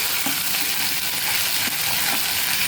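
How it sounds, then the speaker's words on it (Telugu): Cumin with ginger-garlic paste frying in a little oil on a stove for an egg curry, a steady close broadband sizzle with a few soft stirring taps and no talk. "కొంచెం జీలకర్ర అల్లం వెల్లుల్లి పేస్ట్ మంచిగా ఫ్రై కావాలి"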